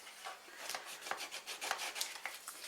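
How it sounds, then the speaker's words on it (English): A bone folder rubs and presses paper down onto a small chocolate gift box, making soft, quiet, repeated scraping and rubbing strokes close by, with no one speaking. "let's bring in our bone folder and make sure it sticks down nice and neatly"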